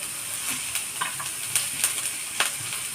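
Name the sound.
onion, coconut, garlic and ginger roasting in oil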